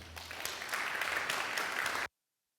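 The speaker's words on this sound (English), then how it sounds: "give a round of applause for Robin" Audience applause for a speaker at a tech summit, a dense wash of many hands clapping at steady moderate volume for about two seconds before cutting off abruptly into silence.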